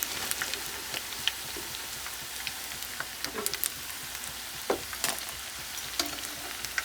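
Gobi Manchurian cauliflower pieces frying in hot oil, a steady close sizzle with scattered pops and crackles throughout, no talking.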